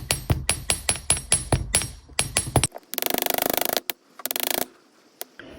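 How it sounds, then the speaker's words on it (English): A small chasing hammer taps metal wire, flattening it, in a quick steady series of ringing strikes, then a burst of rapid rattling taps and a few isolated clinks. "I'm moving on to a chasing hammer to flatten out some of these areas."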